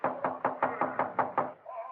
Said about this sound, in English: When I knocked, I did it with the barrel of my .38.